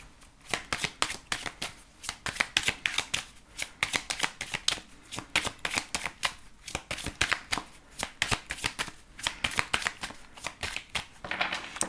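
Oracle cards shuffled for a tarot-style reading, a rapid, steady run of crisp riffling slaps repeating in quick bursts, close and alone with no talking.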